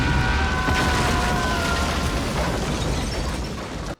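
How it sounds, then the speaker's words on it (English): A big action-scene explosion from the 1998 film The Mask of Zorro, a loud sustained roar with a dense low-end rumble holding steady for about four seconds before cutting off abruptly. "Damn, that was a pretty satisfying explosion."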